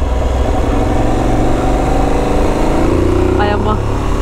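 Motorcycle engine running steadily on a wet road in Thailand, a loud constant drone with a slight rise in pitch, with a voice talking over it.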